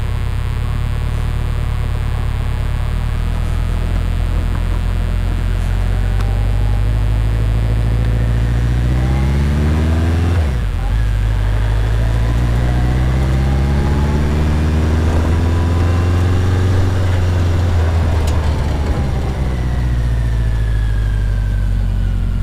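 BMW K100 motorcycle with sidecar, its engine revving loudly and continuously, pitch climbing and falling in long sweeps with a sharp dip midway before rising again, no voices.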